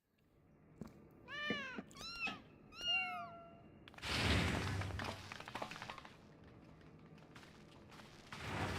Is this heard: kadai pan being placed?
no